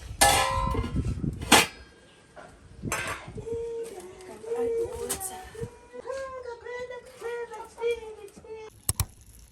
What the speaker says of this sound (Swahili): Wacha nioshe sufuria nilete maji ya ugali.